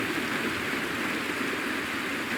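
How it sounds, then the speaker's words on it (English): Rain falling in the video game Honkai: Star Rail, a dense steady hiss of downpour that stays even and close throughout, with no voices. "It is raining!"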